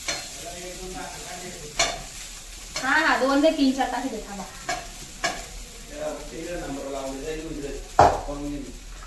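Green chillies and peanuts fry in hot oil for sabudana khichdi, with a steady sizzle and repeated stirring scrapes, under a voice talking.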